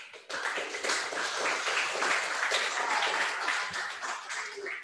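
An audience at a mechatronics webinar event for a vocational school breaks into steady applause, a dense wash of clapping that starts sharply and continues for about four and a half seconds.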